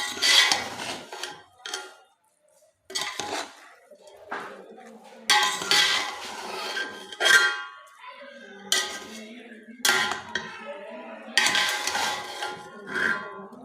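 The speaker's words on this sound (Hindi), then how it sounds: "तो अब हम इसे अच्छे से मिक्स करते हैं" Cooked chicken biryani rice being mixed in a pot, with repeated metallic scrapes and clinks of a spoon against the pot in uneven bursts, loud and close, with no talking.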